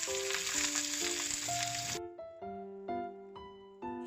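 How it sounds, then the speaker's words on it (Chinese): Sliced bell peppers stir-fried in hot oil with scallion pieces, a loud steady sizzle under intermittent tonal clinks and no speech. "迅速翻炒"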